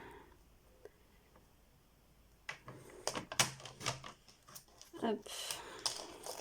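Scissors snip through a small scrap of leftover paper while a card is being made, a run of close, sharp crisp cuts after a quiet stretch, with a brief spoken word.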